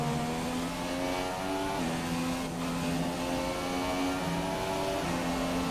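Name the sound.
Formula 1 race car engine in the video game F1 2017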